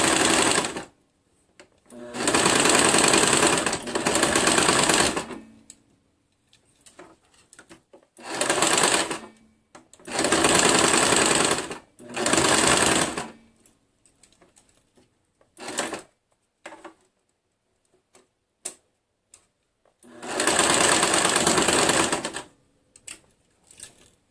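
A sewing machine stitches a sleeve into a garment in several loud, close bursts of rapid whirring, separated by pauses with small clicks and handling sounds.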